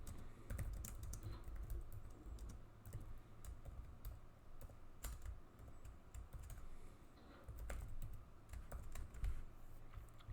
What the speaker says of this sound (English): I think what I'm going to do is just type it up now and explain it in a second